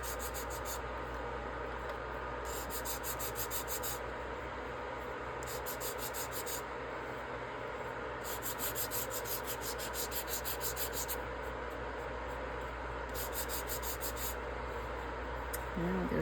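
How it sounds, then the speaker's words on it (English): A steady low whirring rub of a small power sander on low working at the edge of a resin piece, continuous and fairly quiet, with faint high chirring bursts coming and going. "I'm just kind of like sanding this edge down."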